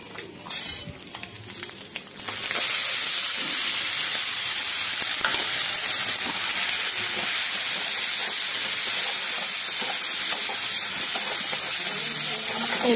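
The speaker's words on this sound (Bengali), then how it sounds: "এই তেলটাতে আমি মশলাটা এবারে ভেজে নেব" Spice paste frying in melted fish oil gives a loud, steady sizzle and hiss that runs nearly the whole clip, with stirring scrapes and no talk.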